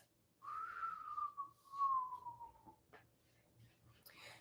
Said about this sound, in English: And exhale your whistle through the mouth.